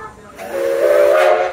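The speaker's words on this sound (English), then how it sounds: "Wait for the engineer to give us a whistle." Steam whistle of the Edison steam locomotive at Greenfield Village Railroad, a single loud, breathy blast with a hissing attack and a steady tonal note that swells and holds for over a second.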